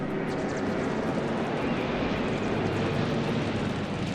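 A Japanese Oscar fighter plane in a World War II air war video game, its engine a steady, loud, continuous drone that holds level throughout with no voices over it.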